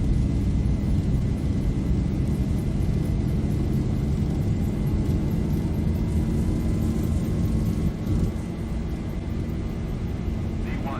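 Boeing 737-800 engines at takeoff thrust in the X-Plane 11 flight simulator make a loud, steady roar with a high whine that holds throughout, easing slightly near the end.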